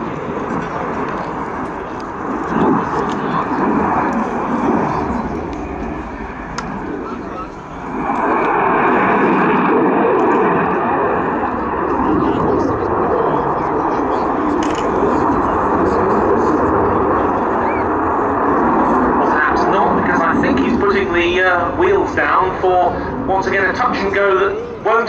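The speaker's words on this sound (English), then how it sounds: "that high speed pass is going to be followed by maneuver" Airplane making a high-speed pass during a flying display at the Royal International Air Tattoo 2013 air show, a loud, steady broadband engine roar with a rising whine near the end, heard under continuous commentary.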